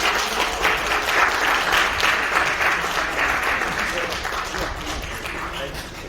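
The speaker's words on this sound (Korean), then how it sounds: "큰 박수 부탁드리겠습니다." Crowd applause outdoors at a press conference announcing a Gyeongbuk education superintendent candidacy at Gumi City Hall, dense clapping from many people, loud at first and easing slightly, with some talk mixed in.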